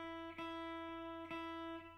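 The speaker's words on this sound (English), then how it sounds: "Your first string is an E. Sounds like this." The open high E, or first string, of a guitar is plucked twice at a slow, even pace, each note ringing bright and sustained up close with no talking.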